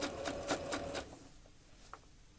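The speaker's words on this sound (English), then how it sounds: "I am now sewing each of the seams on my sewing machine with a 1/4 inch seam." A home sewing machine stitches 1/4 inch seams in fragile fabric, a close rapid mechanical chatter running for about a second before stopping, leaving faint room noise and a small click.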